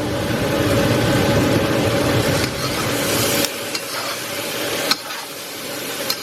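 Pork belly frying in a pan with fish sauce, dark soy sauce, oyster sauce and sugar is stirred, giving a steady loud sizzle that drops back partway through, with a couple of sharp clinks from the spatula.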